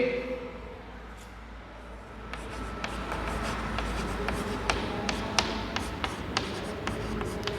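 Chalk or pen taps and scratches come from a teacher writing reasons on a board in a classroom, a steady run of sharp close strokes with occasional faint speech.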